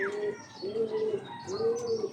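Pigeons cooing in repeated low, rolling phrases at a racing-pigeon training release in Antipolo, Rizal, with faint chirps and a brief flutter of wings, fairly close and steady with no talk.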